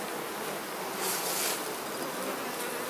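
Honey bees buzz steadily around frames lifted from an open hive during a July honey harvest, a dense, continuous hum with a brief louder swell midway and no voices.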